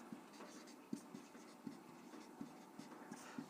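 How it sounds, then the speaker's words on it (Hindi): Chalk or marker writing on a board during a maths lesson on circles, with soft scratching strokes and light irregular taps close by, quiet and alone. "तो हम लोग लिखेंगे"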